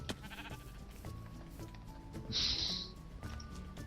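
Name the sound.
sheep bleating in the video game Minecraft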